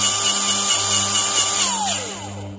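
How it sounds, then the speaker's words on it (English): An 18-volt battery grease gun pumps grease with a steady motorized whir and high whine. Its pitch sags downward near the end as the motor slows, with no talking over it. "now that I have the tube in place, all I really have to do is press the handle"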